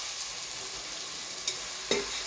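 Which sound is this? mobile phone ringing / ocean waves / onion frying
onion frying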